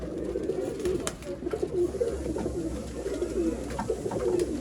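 Dhuma pigeons, a female among them, coo in soft low repeated bursts at a pigeon sale in Bangalore, with a steady hum and other birds faintly behind.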